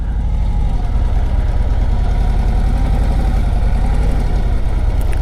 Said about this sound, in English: then we're going to go out on the road with this Street Glide